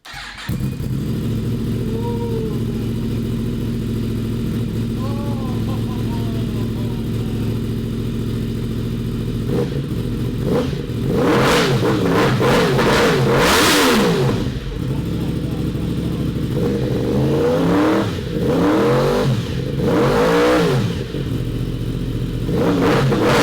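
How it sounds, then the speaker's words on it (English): A 2016 Yamaha R1 fitted with an SC Project half system exhaust idles and then revs repeatedly in sharp, loud bursts, close by, with people talking around it. "this is our 2016 R1 with our SC Projects half system exhaust on it."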